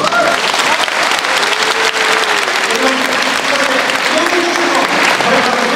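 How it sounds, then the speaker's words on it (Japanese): Audience applause at a boxing exhibition between Naoya Inoue and Genesis Servania, dense and steady clapping filling the hall for the whole stretch, with voices talking over it. "大きな拍手を。"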